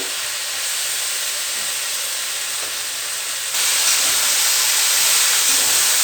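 Sliced onions and okra fry in a pan with a continuous, close hissing sizzle that grows noticeably louder partway through, with no talking.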